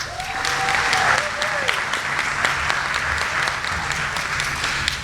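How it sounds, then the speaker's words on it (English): Steady, sustained applause from a large audience at a service awards dinner, dense clapping holding at an even level throughout with some crowd noise mixed in. "Let's have one more round of applause"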